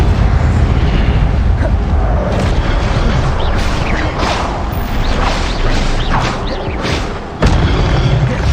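Incendio fire spell cast in Hogwarts Legacy, heard as a loud rushing roar of flame with rumbling booms and creaking mechanical swells, continuous and close, cut briefly by a sharp break before resuming.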